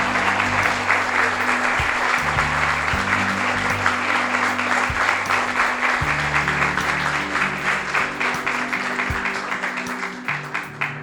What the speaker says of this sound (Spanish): creo que vale aplausos